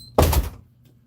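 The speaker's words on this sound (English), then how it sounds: "You need me to open the door?" A door is opened with a single sharp thunk and brief rattle, loud and close, then quickly fades to near silence.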